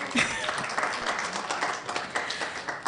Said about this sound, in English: I think you should clap for us.